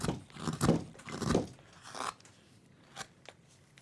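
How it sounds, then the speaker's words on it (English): A chisel makes several rough scraping cuts into wood while carving a Santa figure, close and fairly loud, the first two long and strong, then softer shorter strokes with pauses between. "This one I'm going to start off by just simply rounding, using the chisel."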